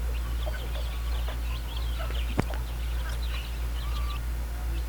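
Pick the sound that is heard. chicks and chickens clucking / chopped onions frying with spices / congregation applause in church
chicks and chickens clucking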